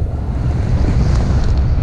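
Strong headwind roaring across the top of a mega ramp, a steady broadband rush with microphone wind buffeting throughout, loud and continuous with no talking.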